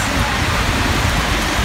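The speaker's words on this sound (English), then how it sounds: "It's raining." Steady rain falls outside during a birthday day, a dense, even wash of close hiss with a low rumble underneath, continuous and fairly loud with no clear voices.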